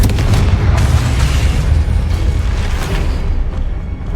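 Confringo explosive spell blast in Hogwarts Legacy, a loud rumbling boom that rolls on and slowly fades over several seconds.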